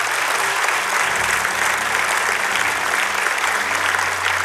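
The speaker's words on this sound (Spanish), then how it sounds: "Dele un fuerte aplauso al Señor." A church congregation gives the Lord a strong round of applause, steady dense clapping filling the room throughout, loud and continuous.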